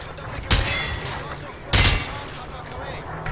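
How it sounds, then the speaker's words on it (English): Rifle gunfire fired from the hip in Call of Duty Modern Warfare 2 comes as two loud, sharp bursts about a second apart over a steady background hum. "He sprayed bullets all over the damn place."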